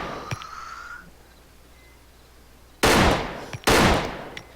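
Two loud, close gunshot bursts from Arma 3 with the Ravage mod ring out near the end, each a sharp broadband blast with a short decaying tail, after a quiet ambient stretch with a faint tonal hum at the start.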